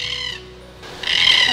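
Faint high bird chirps at a hillside apiary come first, then a lull, then a steady rushing, hissy noise with birds still faintly audible in the background.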